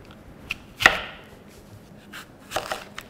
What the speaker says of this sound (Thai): แล้วต่อมาก็มาหั่นแอปเปิ้ลกัน